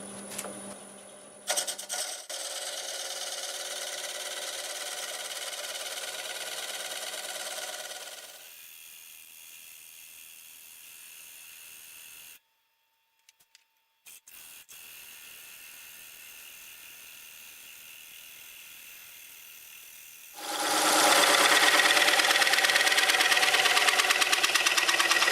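A band saw running at about 500 RPM cuts a round wood blank. A steady high motor whine and blade hum change level as the cut begins and ends, with a short silence in the middle and a loud final stretch.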